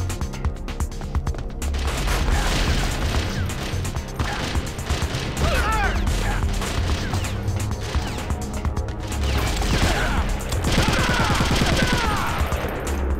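Sustained automatic gunfire from Metal Gear Solid fills the whole stretch, loud and dense with rapid bursts, crashing impacts and metallic clatter layered over game music.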